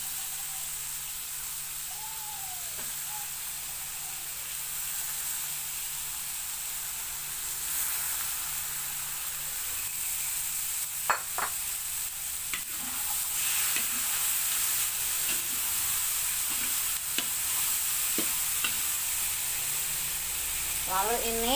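Bitter melon sizzling in a frying pan with a steady hiss throughout, joined by intermittent stirring scrapes and clicks, close and continuous.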